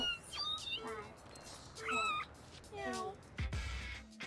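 Kittens in the game No More Heroes meow repeatedly and plaintively, several separate cries close by, with a soft thump near the end.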